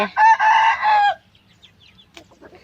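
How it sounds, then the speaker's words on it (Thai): Chickens on a Thai farm sound off at morning feeding time, with a loud, sustained crow-like call for about a second, then quiet with faint scattered clucks and rustling nearby. "เดี๋ยวสิให้อาหารไก่"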